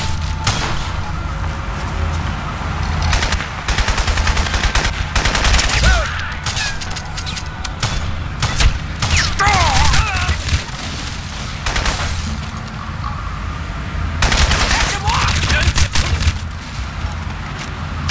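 Gunfire in the Crysis video game: dense bursts of automatic weapon fire and booming shots, loud and continuous across the scene, with explosive thumps and brief lulls between volleys.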